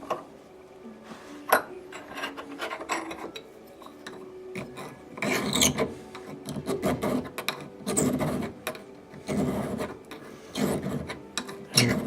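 A fine-tooth file rasps across a metal part held in a vise, rounding off a corner in a run of irregular close strokes of varying strength, with short pauses and light clinks between them.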